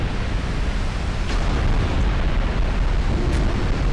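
A battleship in a naval video game is blown apart, a sustained roaring blast with deep rumble and crackling debris, lasting throughout with a couple of sharp pops.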